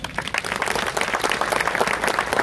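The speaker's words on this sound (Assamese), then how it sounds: "মই লোৱাৰ আসামৰ গোটেইগিলা জিলাৰ কাৰণে জুদাৰ হাত চাপৰি দিয়কচোন" An audience at the 20th Adivasi Mahasabha in Gossaigaon, Kokrajhar, breaks into sustained applause, a dense, even wash of many hands clapping together, fairly loud and continuous.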